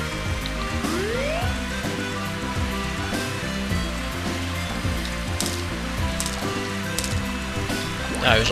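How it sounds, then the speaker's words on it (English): Rain patters steadily on a golf course at Koopa Park in the video game Wario Golf, a constant even hiss running under game music and interface chimes. "Rain, this could make putting a problem."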